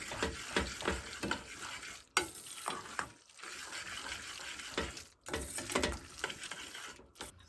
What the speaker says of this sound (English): Then I add my fake unhealthy cheese and give it a stir.